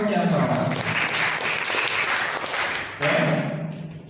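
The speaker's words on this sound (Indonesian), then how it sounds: "Tepuk tangan untuk Jason." Classroom applause for a pupil named Jason, a steady patter of children's hands lasting several seconds with a brief dip before a fresh burst, voices mixed in.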